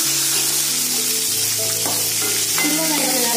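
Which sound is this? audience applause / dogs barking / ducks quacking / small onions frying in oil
small onions frying in oil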